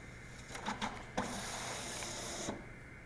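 A voting machine scanner takes a ballot fed in upside down. The motorized feed whirs and hisses for a couple of seconds, with a few clicks at the start and end.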